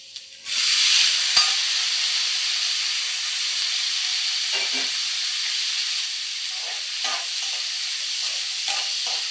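Radish and onion sauté in a pan for radish chutney. A sudden loud, steady sizzling hiss starts and carries on, with a few soft stirring knocks near the end.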